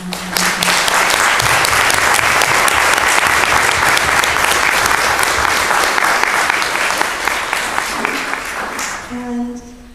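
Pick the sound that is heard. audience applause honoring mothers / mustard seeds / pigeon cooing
audience applause honoring mothers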